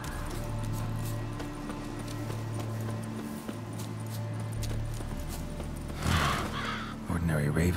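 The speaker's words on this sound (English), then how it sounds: "Ordinary ravens, looks like." Ravens caw in The Witcher 3 video game, a couple of harsh calls near the end over steady background music and clopping hooves.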